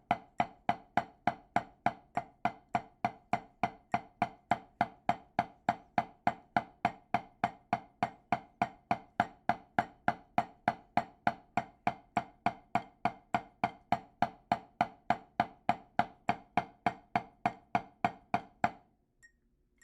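Drumstick strokes on a practice pad play a long, steady run of evenly spaced, sharp taps, close and alone, stopping abruptly near the end.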